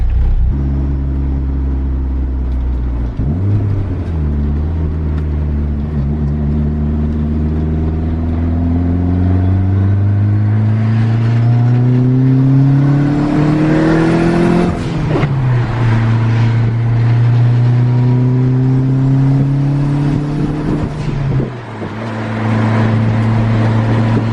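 A big-turbo Eagle Talon accelerates hard on the road, engine droning up through the gears with rising pitch, a shift around the middle and another near the end, loud and steady from inside the car with no talking.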